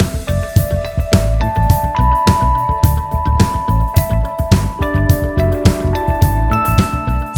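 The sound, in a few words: band playing guitar harmonics in a song bridge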